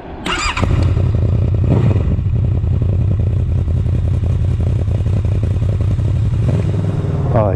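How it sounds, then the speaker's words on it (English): A Honda VFR800F eighth-generation motorcycle with an SC Project Conic aftermarket exhaust revs hard and loud up close, its throaty exhaust roaring steadily with a sharp blip at the start and end. "Oh, exhaust sounds sweet, man. Sounds so sweet."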